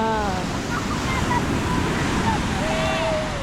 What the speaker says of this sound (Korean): 파도도 높고